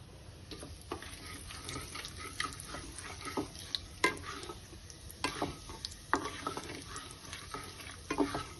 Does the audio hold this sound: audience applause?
no